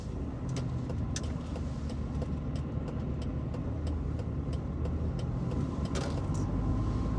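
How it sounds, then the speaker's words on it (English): Steady road traffic rumbles past continuously, a dense wash of car and engine noise with occasional sharper passing sounds, loud and close throughout with no talking. "Look at this traffic."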